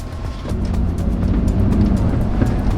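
A Lexus GX470 with a fresh MBP tune pulls hard under acceleration on a test drive, a steady, loud engine and road roar filling the cabin for the whole stretch without any talk.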